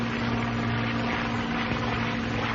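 A North American P-51 Mustang drones steadily as it flies in for landing, a loud, continuous propeller-engine hum with a low, even tone and no talking.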